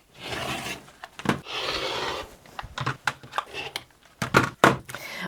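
Rotary cutter or scissors trimming the raw outer edges of a stitch-and-flip scrap quilt block, leaving little crumb pieces. Irregular close rasping and rubbing strokes and soft taps, some long and some short, with no talk.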